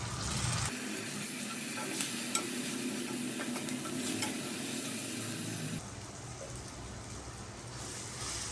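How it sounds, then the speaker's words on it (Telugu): Sliced onions and finely chopped tomato fry in a pan of hot oil, giving a steady, close sizzle with scraping stir strokes throughout and no voices. "ఉల్లిపాయ ముక్కలు కూడా సగం వేగిన తర్వాత ఒక టమాటా ఇలా చిన్న చిన్న ముక్కలు కింద కట్ చేసి వేసుకోవాలి"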